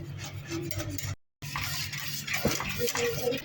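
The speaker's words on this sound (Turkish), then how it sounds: "Yavaş yavaş çırpacağız." Whisking yoghurt, egg and flour in a pot for yayla soup, a soft steady scraping and stirring at close range with a short break partway through and faint background noise.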